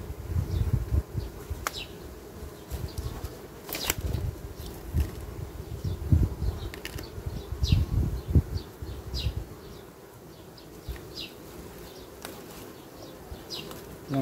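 Honeybees buzzing around a frame of brood and young bees lifted from a hive while an artificial swarm is made, a steady low hum with scattered closer buzzing passes and handling bumps.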